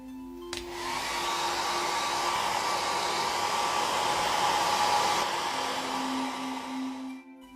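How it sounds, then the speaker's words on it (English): A hair dryer blows continuously for several seconds, a loud steady whoosh with a high whine, switching on and off at each end. "So here I use my hairdryer."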